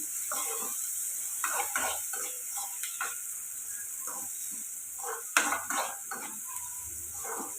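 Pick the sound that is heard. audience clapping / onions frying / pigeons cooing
onions frying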